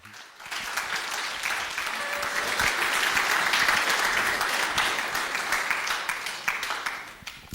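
An audience at a lecture on astrology applauds warmly to welcome speaker Serge Bret-Morel, a dense, steady wash of many hands clapping that swells in the middle and holds nearly eight seconds without speech.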